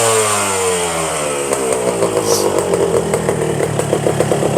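A small two-stroke 1997 motorcycle engine revving loudly up close, its buzzing pitch rising and wavering as the throttle is worked.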